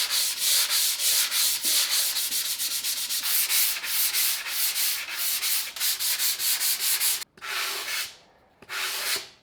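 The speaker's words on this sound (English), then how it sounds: "I'm going to give it a final sanding" Dried joint compound sanded by hand in quick rhythmic back-and-forth strokes, loud and close, on a concrete pyramid sink form during a renovation of an abandoned building, with brief pauses near the end.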